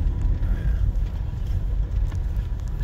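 Heavy low road rumble of two buses passing on a busy Bangalore road, loud and close, with a steady churning drone that swells and eases.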